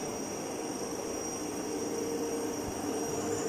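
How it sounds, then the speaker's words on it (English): A DC shunt motor on a lab test bench spins at its rated speed with no load, producing a constant, unbroken whirring hum with a steady high whine and no changes in pitch. "So now motor starts at the rated speed"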